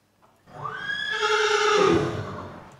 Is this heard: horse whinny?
yes